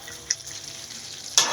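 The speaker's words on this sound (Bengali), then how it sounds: "এবারে আমি এর মধ্যে একটু আদা বাটা দিয়ে দিলাম আর 2-3টে তেজপাতা দিয়ে ভালো করে মিশিয়ে দিলাম" Spinach is stirred in a hot pan with ginger paste and bay leaves, giving a soft continuous sizzle with a couple of brief sharp scrapes of the spoon against the pan.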